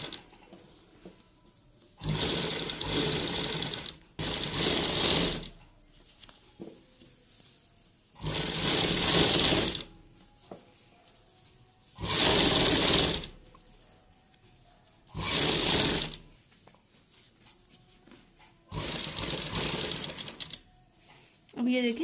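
A sewing machine stitches a round collar neckline on a garment, running in six separate bursts of rapid mechanical whirring of two to three seconds each, with short quiet pauses between them.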